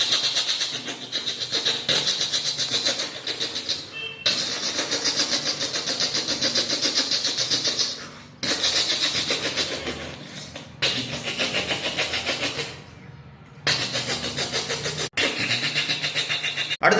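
A voice imitates a passenger train as heard from inside a carriage: a continuous rumbling, rhythmic clatter broken by short gaps, sustained and fairly close over about seventeen seconds.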